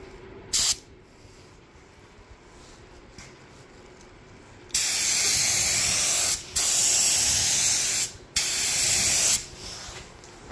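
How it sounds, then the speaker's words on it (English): A short burst of spray, then a pause, then several long hissing passes from a spray gun applying headlight coating on a Toyota Sienna, separated by brief breaks, close and loud. "let's put this into the gun and spray it."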